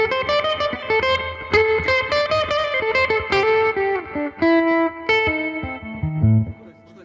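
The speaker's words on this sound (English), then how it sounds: "Here we have the spring reverb before the amp." Electric guitar through a Fender Tone Master amp with spring reverb placed before the amp plays a bluesy, vintage-flavoured run of clear sustained notes and chords, with a reverb tail, loud and alone.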